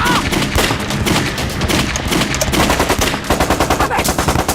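Sustained automatic gunfire laying down suppressing fire on a sniper in a battle against Japanese troops, with dense rapid bursts, loud and close, continuing throughout, with a faint shout or two in the mix.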